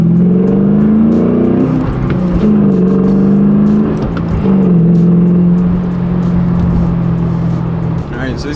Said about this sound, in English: So I'll be able to show you guys the acceleration.